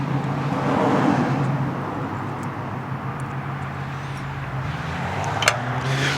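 A repaired snow blower engine runs steadily after a carburetor jet swap for elevation, a low droning hum with a steady harmonic, nearby and continuous with slight shifts in pitch toward the end.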